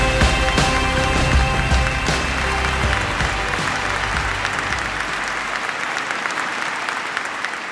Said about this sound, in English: A big round of applause, ladies and gentlemen, to Dance Street daughter Tony Fernandes.